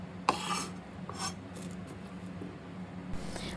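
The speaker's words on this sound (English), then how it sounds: "I'm cutting similarly my second bunch of asparagus." A knife cuts through a bunch of asparagus stalks. The cuts sound like several short, dry rasping strokes close by, with light handling noise in between and no talk.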